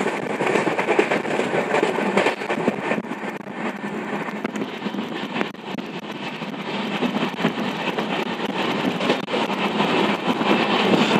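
A train runs along the Konkan Railway through hilly country, with a constant loud rumble, rattling carriages and quick clickety-clack beats heard from on board.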